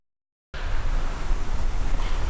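Steady wind buffeting a microphone outdoors, a dense low rumble that starts abruptly and keeps churning without a break, loud and close.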